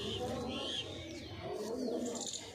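A bearded pigeon coos softly a few times close by, with low background murmur.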